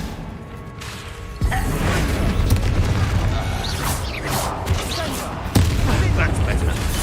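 A Bombarda blasting spell in Hogwarts Legacy, heard as a sudden booming burst that lifts a busy mix of game whooshes and mechanical clatter, with a second loud hit near the end and talk over it.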